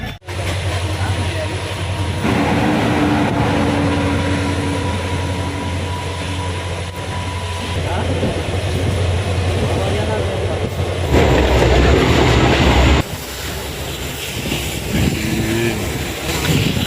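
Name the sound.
Mangala Lakshadweep Express train running at Kasara station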